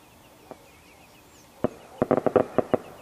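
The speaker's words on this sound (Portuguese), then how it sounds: "vou começar a estourar o rojão" Sharp bangs of exploding firework rockets, a few scattered at first then a quick burst of several, with a faint whistle in the background.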